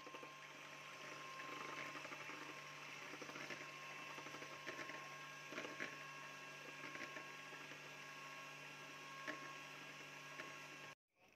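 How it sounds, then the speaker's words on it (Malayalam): Electric hand beater whirring steadily through basbousa batter, a continuous motorized buzz that runs unbroken for about eleven seconds before cutting off abruptly near the end. "ഞാൻ എളുപ്പത്തിന് വേണ്ടി ബീറ്റർ കൊണ്ടാണ് ബീറ്റ് ചെയ്തെടുക്കുന്നത്."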